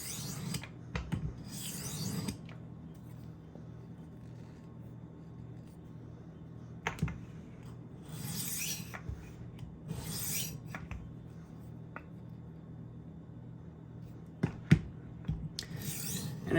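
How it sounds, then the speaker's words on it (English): A knife edge is stroked back and forth on a diamond rolling sharpener, giving short rasping scrapes in irregular bursts with quiet gaps and faint clicks between, close and fairly soft. "Now I'm going to go through and try to remove some of that burr just by doing some back and forth strokes here."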